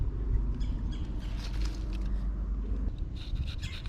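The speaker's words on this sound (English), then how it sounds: "You hear these birds? They're wonderful." Birds chirp outdoors in a garden, several faint, scattered tweets over close scraping and rustling of soil handling, with brighter clusters of calls toward the end.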